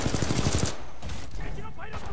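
Burst of rapid gunfire from the video game Titanfall 2, loud and dense for the first moments, then fading into quieter scattered shots and game noise, with a voice faintly present.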